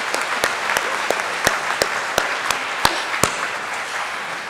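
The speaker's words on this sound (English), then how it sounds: "Let's give a big cheer." An awards-night audience at a career center claps steadily and warmly, a dense wash of applause with a few sharper individual claps standing out, sustained and fairly close.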